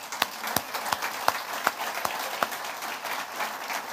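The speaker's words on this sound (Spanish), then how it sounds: "Démosle la gloria a nuestro Dios y a nuestro Señor Jesucristo con un aplauso" A church congregation claps in unison, a run of evenly spaced, loud claps over a wash of scattered applause that lasts the whole moment, with no talking.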